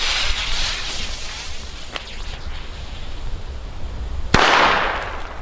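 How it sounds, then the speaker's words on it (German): WECO cannon crackers go off outdoors in the dark: a faint snap, then one sharp loud bang followed by a hissing, fizzing tail, over steady background noise. "Wir zünden die aber jetzt, hier ist auch relativ dunkel."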